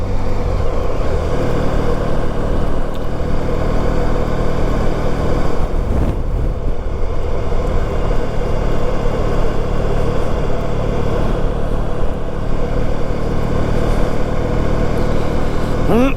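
A classic motorcycle being ridden on a street, its engine a continuous close drone under wind rumble, with a brief dip partway through and no speech.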